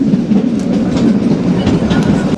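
Kalka to Shimla toy train running, a steady low rumble with rhythmic wheel clatter heard from inside the carriage, close and loud throughout.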